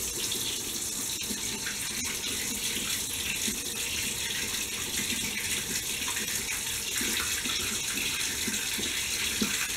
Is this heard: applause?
no